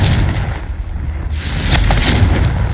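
A Confringo blasting spell cast in the Hogwarts Legacy video game, a loud, dense explosive roar lasting the whole moment, with a burst of crackle partway through.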